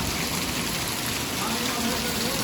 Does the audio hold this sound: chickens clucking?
no